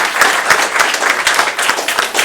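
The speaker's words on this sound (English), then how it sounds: "One more round of applause." Debate audience applauding in a steady, dense round of clapping, loud and close, lasting a couple of seconds with no talk over it.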